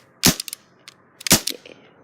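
A semi-automatic pistol fires twice, about a second apart: two sharp, loud cracks, each with a short tail of echo and small clicks afterwards, and nobody speaks.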